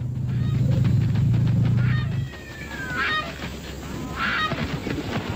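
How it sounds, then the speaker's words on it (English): African crowned cranes and migrating flamingos honk and call a few times at a distance in a crater, after a low droning rumble fades out, over a noisy outdoor background. "African crowned cranes are joined by thousands of migrating flamingos."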